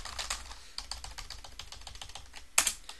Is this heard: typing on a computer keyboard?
yes